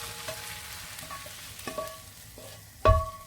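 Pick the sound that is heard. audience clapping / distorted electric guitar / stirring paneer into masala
stirring paneer into masala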